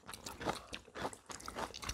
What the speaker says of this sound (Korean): 표고버섯 씹는 게.